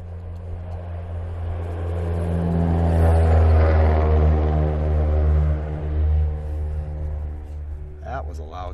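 A loud car passes outdoors near a red barn on a winter day, its deep engine rumble and tyre roar rising and fading over several seconds while a person speaks at the end.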